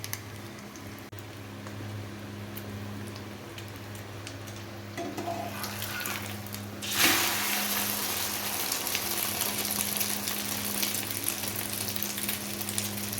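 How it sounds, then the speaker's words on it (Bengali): Egg and tomato paratha sizzles and fries steadily in a pan, a continuous close crackle with a low hum underneath and a brief clatter partway through. "এদিক ওদিক করে ভালো করে ভেজে নিতে হবে লাল লাল করে"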